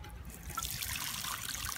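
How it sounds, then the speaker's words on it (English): A Universal Rundle Athens toilet overflowing as water spills over the rim in a steady, faint, close trickle with a brighter splashing stream, and no talk. "it's overflowing a lot there. It's a little waterfall"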